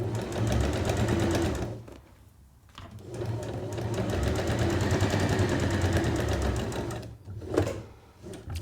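A sewing machine stitches fabric for a petal drawstring bag, a fast, close mechanical whirring rattle that runs in long bursts broken by two short pauses.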